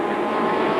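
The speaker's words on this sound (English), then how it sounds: "everybody revving them up and getting ready to go back to the start" Late model stock cars revving their engines on a track during a caution at a 1995 USAR Hooters Cup Series race, a loud, steady blended engine roar filling the brief moment.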